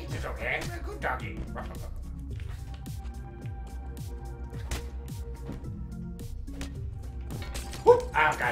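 Dog in the game Mother Russia Bleeds, giving short yips and whimpering barks amid rhythmic thuds and game sounds, with a voice talking over it.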